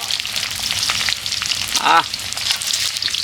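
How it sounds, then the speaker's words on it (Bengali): Food fries in bubbling hot oil with a dense, continuous sizzle and crackle close to the listener, which swells briefly in the middle and then settles back to a steady hiss. "টকবক টকবক করছে তেলে যেন একবার"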